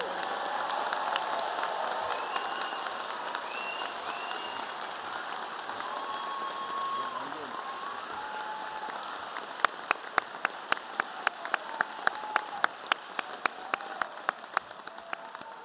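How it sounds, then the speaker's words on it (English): At a medical school white coat ceremony, an audience in a large hall gives sustained applause for the incoming class, a broad soft roar of clapping with a few louder individual claps standing out toward the end. "Let's have one final round of applause for our class of 2030."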